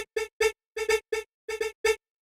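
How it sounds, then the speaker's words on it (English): Short chopped house music vocal syllables fire in a choppy rhythmic pattern, clean and dry with gaps between bursts, then stop. "the vocal chop pattern sounds like this."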